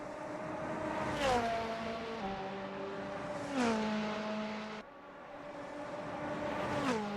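LMP prototype race cars drive through a corner at Road America, with steady engine drone and sweeping gear-change pitch shifts repeating roughly every two to three seconds, loud and close with no talk.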